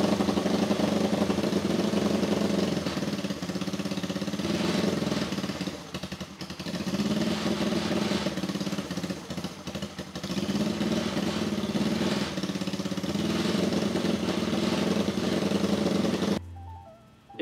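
Honda CB motorcycle engine idling steadily nearby, a continuous loud mechanical rumble with clattering texture that holds for about sixteen seconds before cutting off abruptly.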